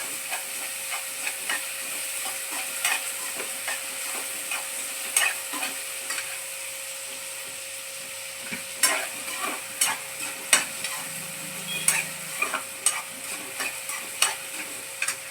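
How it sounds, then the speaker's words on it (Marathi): Onion sizzling in hot oil with mustard seeds in a pan, sautéed until reddish for a Malvani-style chole masala, with a steady frying hiss and sharp crackles and stirring scrapes that grow busier toward the end. "कांदा जरा चांगला परतून घ्यायचा आहे थोडासा लालसर व्हायला द्यायचा कांदा"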